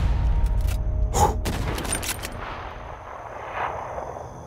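A light machine gun fires in the video game Unturned, a dense burst of rapid shots at the start that fades into a quieter ringing tail.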